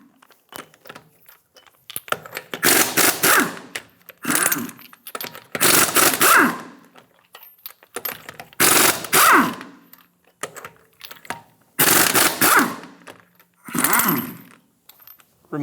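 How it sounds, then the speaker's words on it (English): A rattling impact wrench spins off the lug nuts of a Ford Expedition with a 22mm socket, six loud bursts of whirring and clattering separated by short pauses, with no talk. "Using a 22mm socket, remove the 6 lug nuts."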